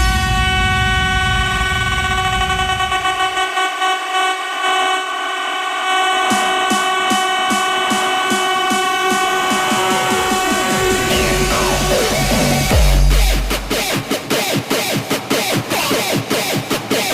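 A bullet train sound effect layered into a hardstyle dance mix: a loud rushing roar with sweeping horn-like tones, rhythmic clacks and a sharp burst near the end as the beat kicks in.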